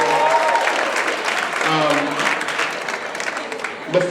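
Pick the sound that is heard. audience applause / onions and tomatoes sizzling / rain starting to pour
audience applause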